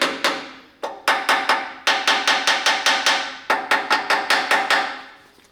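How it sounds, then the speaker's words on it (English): Repeated metal hammer taps on the carburetor of a 1941 Chevy coupe, struck in quick bursts of two to four sharp, close, loud raps separated by brief pauses. "Just put some more in the carb. Give it a couple more taps maybe."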